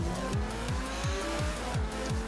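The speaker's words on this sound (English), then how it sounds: "Oh, the car is so awesome. The acceleration is so good." A car accelerates in the video game GTA V, a loud engine climbing repeatedly through rising pitch sweeps, with a quick rhythmic pattern of revs and tire squeal up close.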